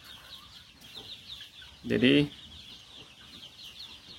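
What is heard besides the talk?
free-range laying hens clucking in a coop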